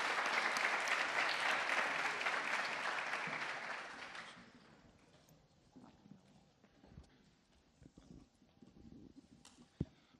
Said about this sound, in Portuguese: E eu gostaria de pedir uma salva de palmas novamente para os nossos palestrantes.